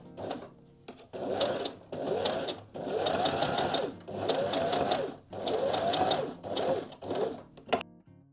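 Sewing machine stitching felt pieces onto a fabric dollhouse shell, running in about five distinct bursts of rapid needle chatter separated by short pauses, close and clear with no speech.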